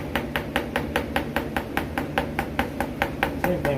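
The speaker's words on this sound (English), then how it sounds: "I just tend to use the ball peen side on the inside edge so you're not stretching the gasket too much." A ball peen hammer taps a gasket edge in a quick, even series of about twenty light metallic strikes, close and fairly quiet.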